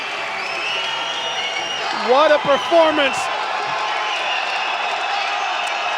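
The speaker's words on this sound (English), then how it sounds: "The Colmar crowd goes wild" Colmar crowd at a professional MMA event roaring and cheering after a stoppage, a steady loud wash of voices with a commentator speaking over it.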